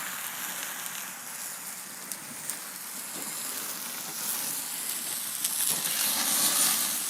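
Prime rib sears on a grill with a steady, close sizzle and crackle that grows slightly louder toward the end, with a few faint pops and no talking.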